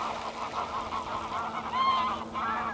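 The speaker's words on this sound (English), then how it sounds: "There we go, more geese." Geese honk repeatedly at Loch Leven, a loch busy with geese, swans and ducks, their calls overlapping in a steady chorus at moderate distance with a louder burst near the end.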